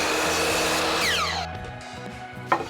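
A power saw cutting a 5.5 inch piece of wooden board, whining loudly through the cut for about a second and a half, then spinning down, ending in a short knock.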